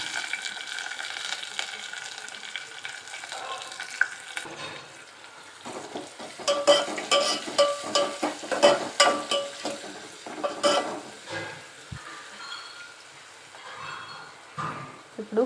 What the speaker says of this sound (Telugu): ఇప్పుడు కొంచెం పచ్చికరివేపాకు కడిగి వేసుకున్నాను.